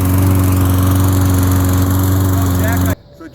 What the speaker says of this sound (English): but right now that's all I need for the lawnmower